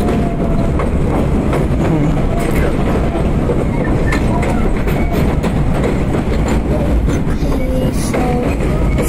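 R32 subway train on the J line rolling along elevated track between Broad Street and Jamaica, a loud steady rumble with rail clatter and wheel noise throughout, close and continuous.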